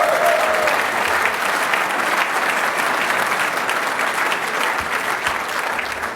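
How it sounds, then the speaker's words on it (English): A large dinner audience at the SMMT annual motor industry dinner applauds steadily, dense clapping holding loud for about six seconds before easing slightly at the end. "I think it probably deserves a round of applause."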